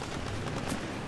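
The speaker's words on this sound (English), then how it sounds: "It's so difficult talking with all the gunshots." Rapid bursts of gunfire in the Titanfall 2 video game during a speedrun, loud dense overlapping shots crackling in quick succession throughout without talk.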